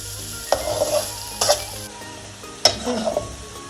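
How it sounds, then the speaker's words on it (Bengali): Onions frying in oil until crisp, a loud close sizzle broken by three sharp metal spatula knocks and scrapes against the pan, no voices. "ভালোভাবে নেড়ে চড়ে বেরোস্তা করবেন"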